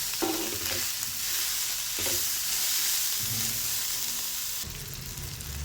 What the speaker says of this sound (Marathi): मस्त आपला मसाला छान भाजला गेला आहे।